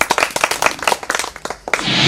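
A crowd at a Maithili folk dance troupe performance claps in quick, uneven bursts of separate hand claps, fairly close and loud, before the sound thins into a softer wash at the end.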